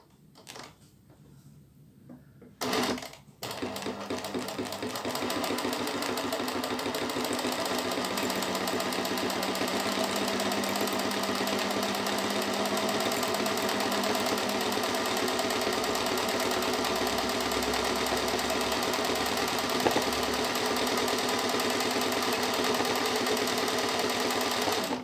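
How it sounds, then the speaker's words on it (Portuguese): A sewing machine runs steadily at close range, stitching a small fabric flower, with a brief start and stop in the first few seconds before a long, even whirring stretch. "eu tava fazendo a costurinha dessa florzinha"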